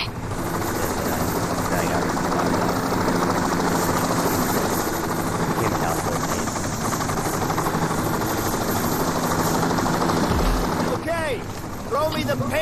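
A steady, loud rotor-and-engine drone fills the scene from a helicopter in the game Payday 2, waiting to receive a heist haul. The noise holds unbroken and a voice speaks briefly over it.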